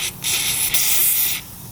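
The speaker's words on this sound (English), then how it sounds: "Spray the threads here" Cleaner sprayed onto dirt bike threads after a seized tensioner nut is removed: two close, sharp hissing bursts, a short one and then a longer sustained spray that cuts off cleanly.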